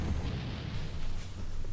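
A space explosion in the Phantasy Star IV video game as a castle is destroyed: a steady, loud low rumble that holds without pause from start to end, with no speech over it.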